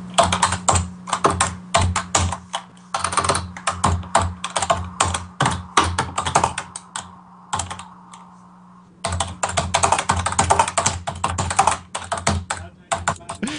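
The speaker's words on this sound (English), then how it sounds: "we're gonna have to ask you to not type during this" Rapid, uneven clatter of keys on a computer keyboard, close and fairly loud, with bursts of typing broken by brief pauses and a quieter stretch in the middle.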